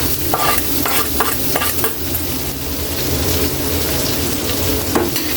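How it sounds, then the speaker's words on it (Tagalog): Garlic and onion sautéing in melted butter for a squid dish, a loud continuous sizzle close by with repeated clinks and scrapes of a spoon stirring in the pan. "Ilagay na natin kayo yung bawang at yung sibuyas. Pagsama na natin."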